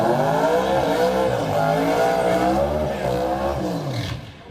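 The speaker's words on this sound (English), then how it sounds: "Well, the burnout just really went sideways out there, but it got the smoke off the tyres to generate some heat out here, Paris." Drag racing car doing a tyre burnout at a drag strip, its engine holding a loud, steady high-revving roar with shifting pitch for several seconds before easing off at the end.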